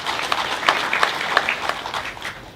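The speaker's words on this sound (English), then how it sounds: "Let's clap for them." Audience clapping at a graduation ceremony, a scattered round of handclaps at moderate volume that thins out toward the end, with no talk over it.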